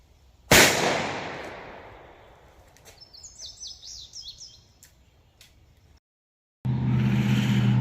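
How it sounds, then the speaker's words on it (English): A single sharp, loud shot from a 6-inch Taurus Model 66 .38 Special revolver is fired through denim, fleece and cotton layers into ballistic gel outdoors. It rings out, birds chirp afterward, and a steady broadband noise starts near the end. "through the 6-inch Taurus Model 66 through heavy clothing of 1 layer of denim, 1 layer of fleece, 2 layers of cotton t-shirt into the ballistic gel"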